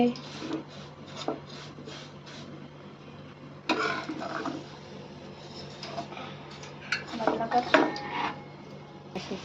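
Kheer ingredients are roasted and stirred in a pan at home, with repeated clinks and scrapes of a spoon against metal in uneven bursts under a quiet background hum.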